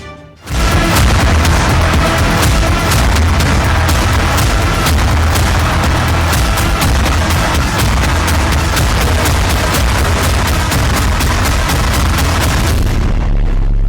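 Heavy artillery fire and explosions from war footage of Russian strikes on residential areas of Ukraine, a dense, continuous barrage of booms and blasts that stays loud almost throughout with no speech.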